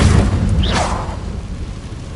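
Confringo, the blasting spell in Hogwarts Legacy, hits with a loud booming burst and a whooshing flare. The blast rumbles and fades quickly over about two seconds.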